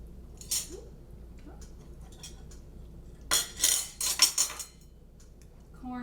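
Cutlery clinks and scrapes against a plate while a 1950s Jell-O shrimp mold is sliced and served, with a few soft early taps and then a louder cluster of metallic clinks close by.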